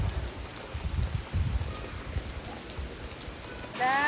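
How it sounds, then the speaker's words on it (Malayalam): Steady rain patters on a surface with low rumbling thuds; a faint whistling tone rises briefly at the very end. "എത്ര മഴ പെയ്തു"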